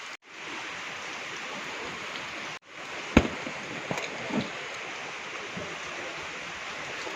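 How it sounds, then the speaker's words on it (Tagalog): Heavy rain pours in the mountains of Taiwan in zero-visibility weather, a steady dense hiss throughout with a few sharp knocks partway through and no voices. "At umuulan mga kababayan. Pabalik na ako sa trabaho sa mga luya. Malakas ang ulan."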